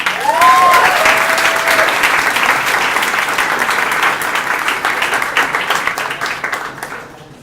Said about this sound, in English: Another round of applause for these amazing players